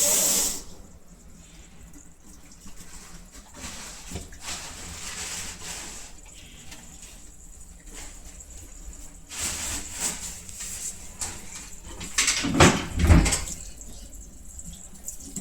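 Water runs and splashes while a washbasin is being rinsed clean, an intermittent tap-like flow with drips and a louder burst of pouring toward the end.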